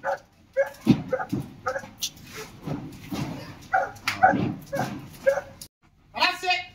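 A dog being trained as a guard dog yelps and whimpers in short bursts, mixed in with someone talking steadily close by.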